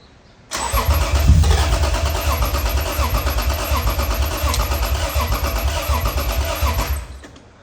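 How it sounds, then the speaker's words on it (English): A 2003 Lexus IS 300 engine cranks briefly, then catches and settles into a steady, slightly uneven idle with a pulsing rhythm, loud and close for several seconds before cutting off. "We know it turns over good. We know it hits when it's got some fuel in it."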